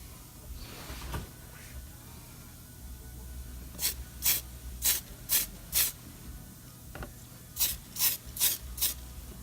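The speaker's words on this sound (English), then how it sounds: "Let's do a little spray there, see how it's coming out." A spray can coats BMW tail lights in two sets of quick, evenly spaced hissing bursts, about four in each set, close by, over a quiet background.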